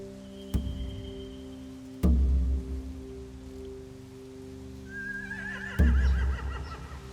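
Horses whinny and snort in The Walking Dead: The Final Season video game, with heavy low thuds at intervals and a long shrill neigh rising near the end, set against a quiet rainy outdoor ambience.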